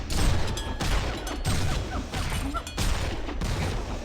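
Dense, continuous bursts of gunfire in a fantasy video game battle, rapid overlapping shots and impacts forming a loud, unbroken barrage with brief dips.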